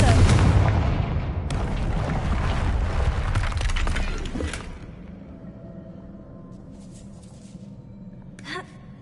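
Confringo blasting curse explosions in Hogwarts Legacy, a heavy booming blast that rumbles and fades over several seconds into quiet, followed by a faint late thump.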